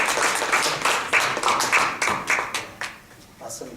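A small seminar audience claps briefly at a lecture on using YouTube, a few seconds of close, uneven hand claps that fade out toward the end.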